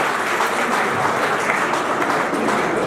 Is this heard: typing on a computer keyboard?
no